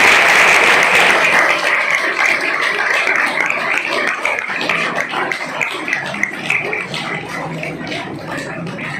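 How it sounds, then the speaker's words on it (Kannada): An audience claps in a PU science college hall, with dense, loud applause at the start that gradually thins and softens over about nine seconds. "ಇನ್ನೊಂದ್ಸಲ ಚಪ್ಪಾಳೆ ಹಾಕಬೇಕು."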